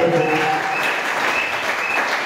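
A church congregation applauds together at a sermon, a dense, steady wash of clapping filling the room from start to finish with a few voices mixed in.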